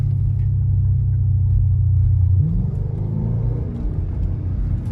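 A Chrysler 300 fitted with a Flowmaster Super 40 muffler and 5-inch tips gives off a deep, loud exhaust rumble. A steady idle drone shifts into a rougher, lower burble partway through.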